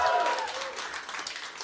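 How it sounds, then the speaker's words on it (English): Audience applause at a tech conference summit, the crowd asked to clap and cheer like a sports stadium; a brief, moderately loud burst of clapping with some voices mixed in, fairly steady before trailing off. "I want to hear like sports stadium applause"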